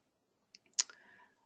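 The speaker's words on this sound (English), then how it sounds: "So left click on your chart." A few faint, sharp computer mouse clicks on a trading chart, two quick light taps followed by a firmer click with a short rattle, isolated in a quiet room.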